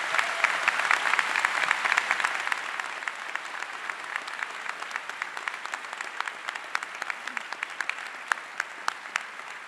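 An audience at a university presidential inauguration applauds after a musical performance, starting as dense clapping and thinning out into scattered individual claps as it fades.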